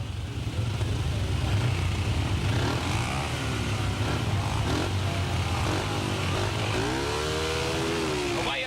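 Speedway solo motorcycles at a 1985 international meeting in Claremont, engines droning and revving together at the starting gate, rising in pitch near the end, loud and continuous under a race commentator's voice.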